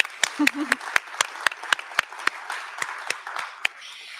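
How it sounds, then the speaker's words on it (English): Scattered audience applause in an event hall at a high school startup pitch finale, with sharp individual claps recurring at a steady rhythm for several seconds and a brief voice early on. "we can give them applause in absentia"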